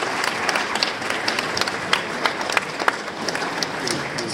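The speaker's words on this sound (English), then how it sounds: "Give her a round of applause." Steady applause from a crowd at a political candidates' forum in Denver, many hands clapping evenly for several seconds with sharper individual claps standing out, no talking.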